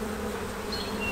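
Honeybees hum around an open hive in a close, continuous buzz, steady and fairly loud, with a faint higher whine drifting in near the end.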